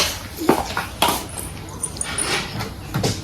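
A dog makes short whimpers and yips close by in a house, scattered among knocks and faint voices in the background.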